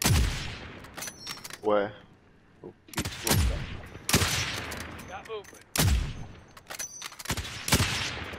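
Call of Duty Warzone match at an airport building, with gunfire crackling in several sharp bursts of shots, loud and near, separated by short gaps while players talk quietly between volleys.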